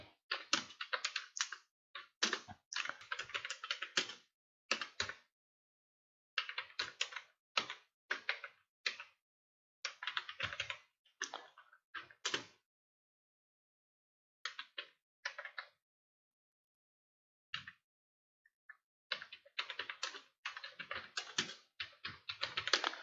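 Someone types on a computer keyboard in quick, clustered bursts of crisp key clicks, separated by short pauses and heard up close in a quiet room.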